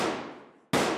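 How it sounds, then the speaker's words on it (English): Two sharp gunshot blasts, the first ringing out and decaying over about half a second, the second following abruptly, loud and close. "Suddenly, gunshots"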